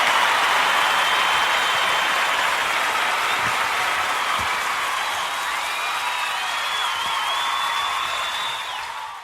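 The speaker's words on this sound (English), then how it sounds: "I even got a couple of applause at that as well" Audience applause on a comedy talk show: dense, sustained clapping from a large crowd with a few whoops and cheers mixed in, loud and even throughout before easing off at the very end.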